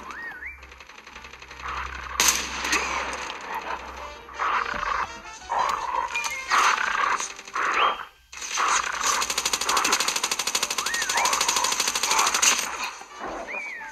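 Gunfire erupts in a Call of Duty battle royale match, rapid automatic bursts and repeated shots in dense clusters, loud and near, mixed with game sound effects and alert tones across the whole stretch.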